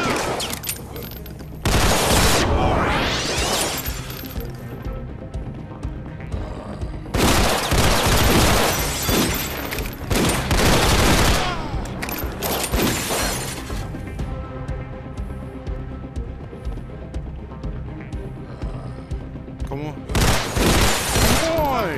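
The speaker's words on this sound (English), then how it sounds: "Shooting around that corner, that's why." Video game gunfire in a zombie shooter, loud bursts of rapid shots and shattering impacts in several clusters, with a player's voice talking between them.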